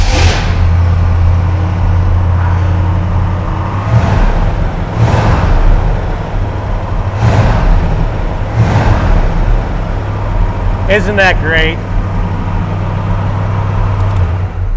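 A loud old Pontiac GTO engine, abandoned for years, idles with a deep rumble and is revved several times in strong bursts; a voice speaks briefly near the end.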